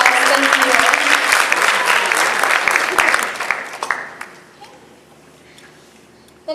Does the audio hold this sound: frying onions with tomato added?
no